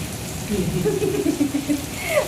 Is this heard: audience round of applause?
no